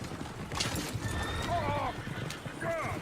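Horses in Red Dead Redemption 2 whinny repeatedly over clip-clopping hooves, with several neighs in quick succession amid busy ambient noise and a person talking.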